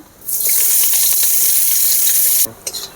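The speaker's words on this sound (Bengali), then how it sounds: "পেঁয়াজ এভাবে আমি লাল করে ভেজে নিয়েছি" Chopped onions fry in oil in a kadai with sugar and black cumin, giving a loud, steady hiss and sizzle that cuts off abruptly, followed by a few small clinks.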